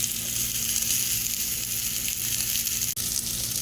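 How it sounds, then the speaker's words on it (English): Steady, dense sizzling of kebabs frying on a hot panini grill, continuous and close, with a brief dip near the end. "You can hear the sizzling sound. Perfect heat for the kebabs."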